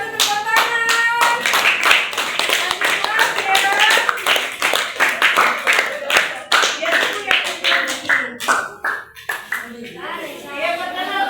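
Enthusiastic classroom applause breaks out as a student group comes forward to present at an Indonesian school, many hands clapping densely and close, with a teacher's voice speaking over it.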